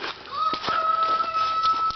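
Farm chickens on a rural property with goats nearby, a faint, brief burst of fowl calls and a drawn-out crowing note over quiet background.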